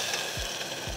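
Water is poured onto a ghee-fried mixture in a pan while making basundi, giving a steady close sizzle with a couple of faint low knocks from the pan or spoon.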